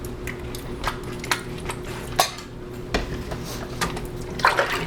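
Soap is stirred into a container of water to wash an M40A2 gas mask, giving soft sloshing and clinking knocks in an uneven rhythm, fairly close and quiet, with no talking.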